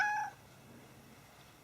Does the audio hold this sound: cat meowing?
yes